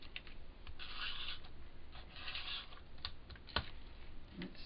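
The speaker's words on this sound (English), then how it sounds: "I'm going to take my tape runner" A tape runner is drawn along a handmade paper card to lay adhesive, giving several short rasping strokes with small clicks and taps between them, close and fairly quiet.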